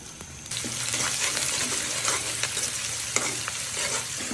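Shak greens frying in a pan on a home stove, a dense crackling sizzle that jumps louder after a moment, with scraping stirs and a few sharp clatters, close by and unbroken by speech.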